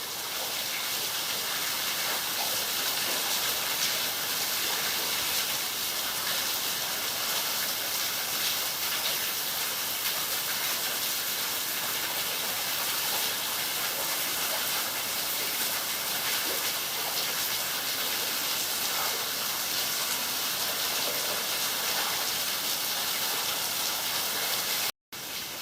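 Caves Creek Waterfall near Hilltop in the Southern Highlands produces a continuous broadband rushing roar, steady and unbroken throughout, with no talk over it.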